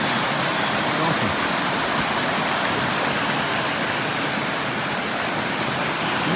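Steady, loud rush of a waterfall in Connecticut fills the whole clip, a dense continuous roar with no pauses.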